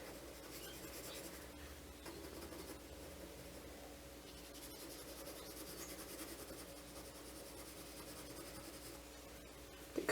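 A Derwent watercolour pencil scratches and rubs across paper in close, quiet, continuous strokes, with a faint steady hum underneath and no talking.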